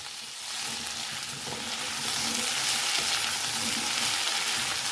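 Four large potatoes fry in a hot pan for a Bengali aloo torkari, giving a steady, close sizzle that grows slightly louder and stays dense throughout, with no talking.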